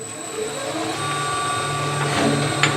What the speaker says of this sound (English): it's a good time to do a little bit of sanding.